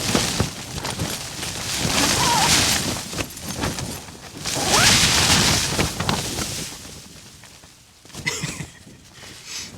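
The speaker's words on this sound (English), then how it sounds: "seeing how it's dealing with this wind and these gusts" Strong wind gusts buffet a Hilleberg Akto tent during a subzero winter snowstorm, with loud roaring surges that rise and fall in waves, heavy flapping and rushing noise, and brief lulls between gusts.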